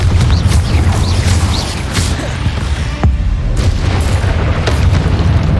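Repeated fiery blasts of the Confringo spell in the video game Hogwarts Legacy, loud booming bursts layered over a constant rumbling wash of combat noise with sharper pops recurring throughout.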